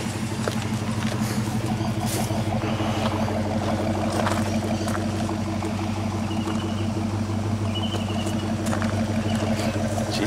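A Chrysler Valiant engine runs steadily after carburetor work, a continuous close idle with an even low rumble and no pauses across the whole stretch.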